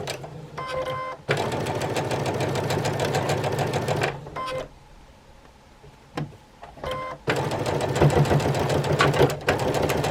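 A sewing machine stitches jelly roll quilt fabrics at a slow, steady pace, running in long close bursts with two short pauses where the motor drops to a quiet hum before starting again.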